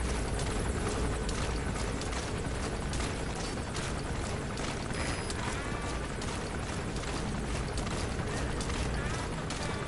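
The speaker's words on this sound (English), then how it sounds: "That's an enemy gunship." An enemy gunship helicopter in the video game Metal Gear Solid V, a constant loud rotor and engine roar filling the scene with sharp clicking game effects on top.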